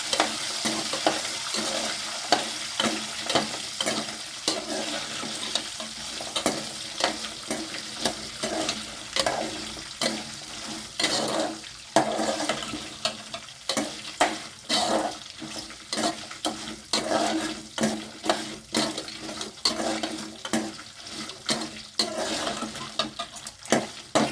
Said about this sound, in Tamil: ஆனியனையும் பூண்டையும் போட்டு நல்லா வதக்கிக்கோங்க